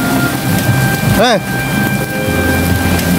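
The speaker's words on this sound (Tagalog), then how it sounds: "Inaabot ng ulan. Grabe." Heavy rain pours steadily and loudly on an outdoor street during bad weather, a dense unbroken hiss filling the scene, with a brief sweeping tone near the middle.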